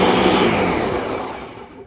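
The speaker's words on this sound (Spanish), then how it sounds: "Y vamos a licuar. Ok. Encendemos la poderosa." A kitchen blender runs steadily, whirring as it purées banana custard mixed with cornstarch, loud and close, then winds down and fades toward the end.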